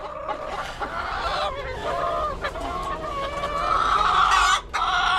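Backyard hens cluck loudly and close after laying eggs, a busy overlapping chorus of rising calls and squawks that grows stronger toward the end.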